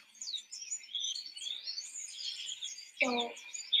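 Small birds chirping and tweeting in quick high bursts throughout, fairly close, with a brief low voice or vehicle sound cutting in near the end.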